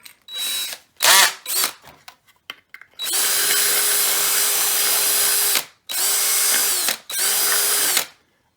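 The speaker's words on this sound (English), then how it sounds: "I'm going to take this thing and grind it a little bit." A power tool grinds a part for an Otto DIY dancing robot kit, first in short stop-start bursts, then in three long, loud, close whining runs separated by brief pauses.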